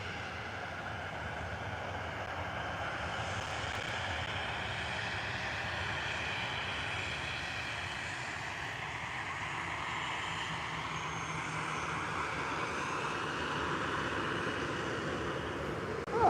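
A Ryanair jet takes off at Liverpool John Lennon Airport with a continuous, moderately faint engine roar that holds steady and swells slightly toward the end, with no voices.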